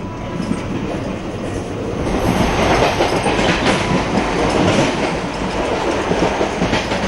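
Indian Railways train riding the tracks toward Kanyakumari, heard from on board as a loud continuous rumble with dense clattering wheels over the rails.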